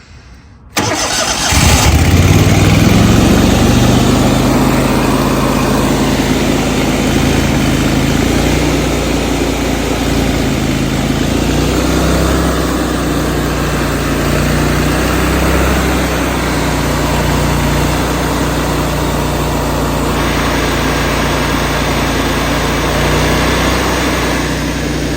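A small engine cranks and catches with the choke on, then settles into a loud, steady idle that runs on unbroken and close by.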